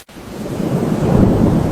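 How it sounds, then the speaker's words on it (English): Heavy rain with thunder outside, a dense, steady roar that starts right away and builds slightly in loudness, close and continuous with no voices. "Yes, it is raining quite heavily."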